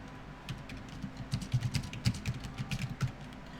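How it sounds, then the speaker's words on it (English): Keys tapped on a computer keyboard during a Minecraft session, a quick uneven run of close, soft clicks that swells in the middle and thins out toward the end. "Let me type back"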